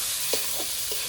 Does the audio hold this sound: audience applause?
no